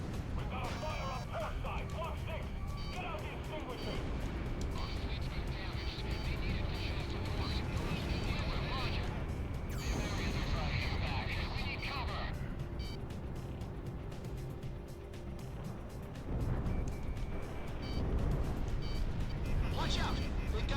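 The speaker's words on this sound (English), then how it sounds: "Or maybe it's the sound effects of the plane." Aircraft engine noise from the Ace Combat 6 video game drones steadily underneath for the whole stretch, with a player talking over it and a few brief bursts and swells of other game sound.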